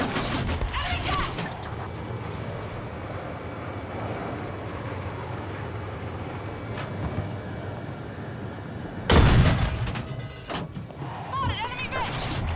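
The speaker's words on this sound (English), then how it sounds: "Enemy tank!" An enemy tank in the Battlefield 6 video game moves across a large battle map, giving a steady mechanical rumble with creaks beneath the noise of the fight. A loud burst breaks in at about nine seconds.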